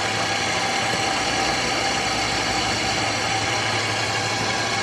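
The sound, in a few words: paper drill press drilling 1/8 inch PVC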